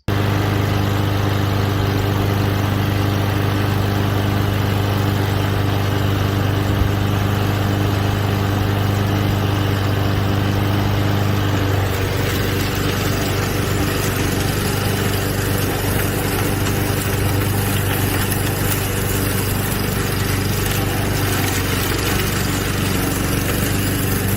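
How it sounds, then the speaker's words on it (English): A Honda lawnmower with a 200cc engine drones steadily and loudly while cutting tall, thick grass; about halfway through, the engine note roughens and shifts as it takes on the load. "Let's see if the Honda with the 200cc engine can take care of the job."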